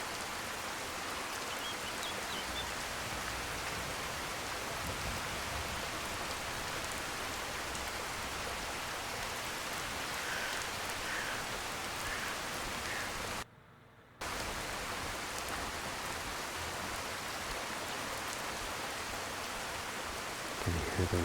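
Steady rain falls on a stone road in a rainy forest town in the video game Skyrim, a dense, even hiss of drops that briefly cuts out once before resuming.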